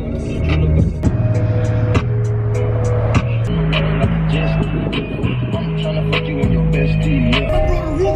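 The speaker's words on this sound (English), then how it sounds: "Yeah, they should be drifting right there." Cars at a drift event, engines droning and revving in steady runs with sharp rises and falls, loud and continuous; a voice talks over the noise.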